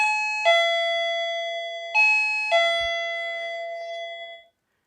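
A bright electronic chime plays a few clean ding tones in an uneven rhythm, each ringing out and fading, heard alone and close.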